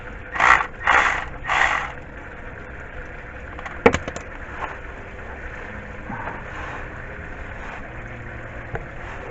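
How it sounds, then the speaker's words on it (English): A ratchet loosens the rear transmission pan bolts on a 2005–2010 Chevy Cobalt with an automatic gearbox: three short bursts of rapid clicking up close, then a sharp metallic click and faint scattered clinks. "I'm just loosening the back bolts"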